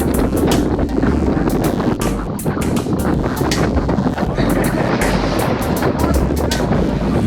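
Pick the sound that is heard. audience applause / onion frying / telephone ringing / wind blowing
wind blowing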